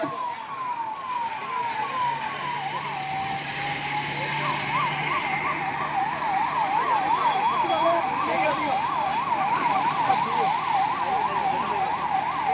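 An ambulance siren wails continuously, its pitch sweeping up and down in a fast, repeating pattern, fairly close and growing louder over traffic noise, during a police bomb-blast mock drill.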